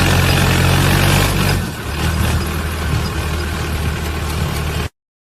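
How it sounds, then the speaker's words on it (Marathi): A tractor engine runs close by with a loud, steady low rumble that shifts in tone partway through, then cuts off abruptly near the end. "तर आता तुम्ही ट्रॅक्टरचा आवाज किती येतो. मी आता माईक काढला आणि बघा आवाज."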